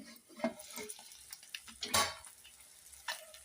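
Small eggs frying in a pan make a quiet, crackling sizzle, broken by scattered scraping and stirring clicks from a utensil.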